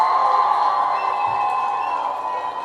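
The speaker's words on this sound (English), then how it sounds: "Let's give the beautiful Wakanda a huge round of applause, ladies and gentlemen." Crowd cheering and applauding at a live event, a steady dense wash of whoops and clapping that holds at an even, fairly loud level throughout.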